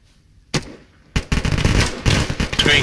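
Sniper rifle fire and automatic gunfire in the military video game Arma during a co-op mission: a sharp single crack after quiet, another loud shot, then a dense, sustained barrage of rapid close shots.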